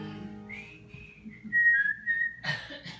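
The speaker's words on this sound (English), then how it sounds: "Now, at the beginning, this has whistling." A person whistles a short, wavering tune, clear and close, with a breathy break near the end and no talking.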